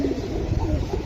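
A silver Giribaz pigeon coos close by in soft, repeated low murmurs that run without a break for about a second, with no other sound over them.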